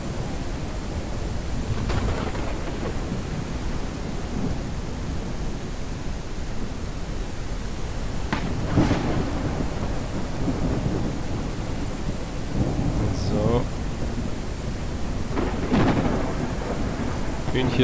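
Rain falls steadily in a ranch simulation game during a lightning storm, while several loud thunder claps crack and roll through the constant hiss over about eighteen seconds.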